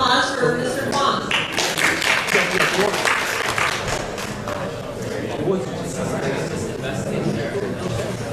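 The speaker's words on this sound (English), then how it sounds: "Put a round of applause for Mr. Huang." An audience applauds at a tax seminar, a dense burst of clapping that swells early and then holds steady, with some crowd chatter mixed in.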